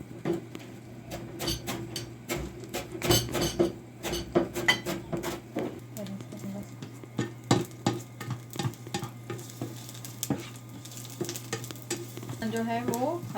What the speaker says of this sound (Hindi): इसको हल्का हल्का धीमी आंच पर फ्राई होने दें।